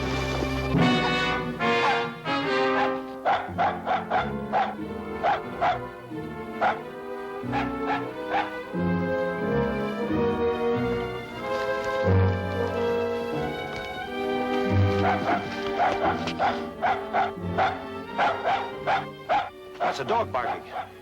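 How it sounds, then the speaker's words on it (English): A dog barks and yips repeatedly in an old adventure serial soundtrack, the calls mixed with dense orchestral music and voices talking throughout. "That's a dog barking."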